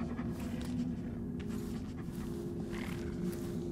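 A dog panting in the video game Dishonored 2, rapid rhythmic breathing that sounds close and quiet over a constant low background hum, with no voices.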